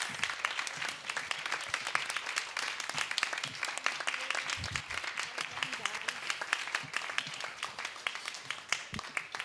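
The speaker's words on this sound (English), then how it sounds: "please, standing applause." An audience at a pavilion closing event gives a standing ovation, dense sustained applause filling the room steadily throughout, with faint voices mixed in.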